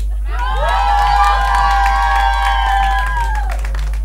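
Crowd at a birthday party in a restaurant erupts in loud cheering and applause, with high excited whoops and shouts sustained over clapping before tapering off.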